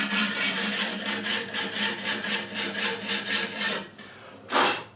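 A katana blade is pushed in even, rhythmic strokes against a sharpening stone, about a dozen close, gritty rasps in steady succession, then a brief pause and one final stroke.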